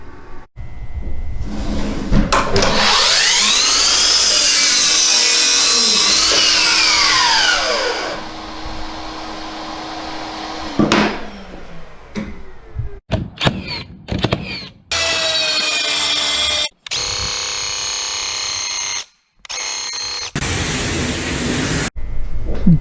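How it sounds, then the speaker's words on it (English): Makita 36 volt 12-inch dual-bevel sliding compound miter saw spins up with a loud, sustained whine and cuts, then winds down, followed by a series of shorter bursts of motor noise and handling clatter. "Makita's 36 volt dual bevel compound miter saw."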